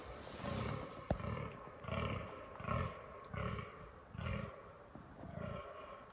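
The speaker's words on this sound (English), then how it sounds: "And fallow deer are making this noise when they're in their rutting season." A fallow deer stag groans in a forest during the rutting season in Sweden, a series of about seven deep, rhythmic belching growls roughly a second apart, moderately distant and alone.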